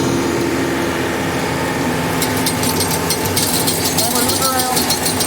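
A garden tiller engine runs close and loud as its RPMs are brought up, a steady mechanical drone with some higher rattling toward the end.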